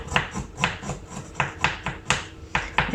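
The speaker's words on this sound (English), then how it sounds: "the best way of peeling ginger is with a teaspoon. So all you have to do is just scrap the peel with a spoon" A teaspoon scraping the peel off a piece of ginger, a close, quick series of rhythmic scratchy strokes, roughly three per second, with no talking.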